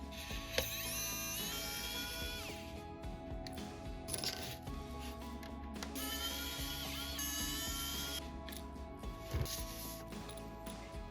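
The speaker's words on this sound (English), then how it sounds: "We'll begin by detaching those two aluminum loops by unscrewing the two screws on each loop." Screws are backed out of the aluminum strap loops on a JBL Xtreme 4 speaker, giving quiet close-up clicking ratchet-like turns and small metallic rattles in steady bursts.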